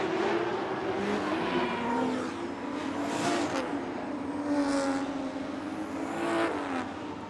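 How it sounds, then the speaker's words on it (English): A Formula Drift competition car on a bye run revs hard, its engine note rising and falling in sustained, loud surges while it drifts through the course. "Michael Essa with his by-run layout. Turn up the volume there, Kemp. Give the fans what they want to hear"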